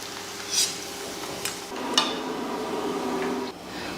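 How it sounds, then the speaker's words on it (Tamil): Papadum crackles and sizzles in hot oil, a steady frying hiss with a few sharper clinks and pops, close up and without voices. "முதல்ல அப்பளத்தை பொரித்து எடுத்துக்கலாம்"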